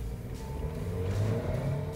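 A small 1.2-litre car pulls away hard from a standing start, its engine note steady and loud throughout the full two seconds.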